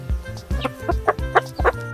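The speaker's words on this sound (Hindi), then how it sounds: "हेन को हिंदी में मुर्गी कहते हैं। मुर्गी अंडे देती है" A hen clucks in a series of short, close, rhythmic clucks, about five or six in quick succession.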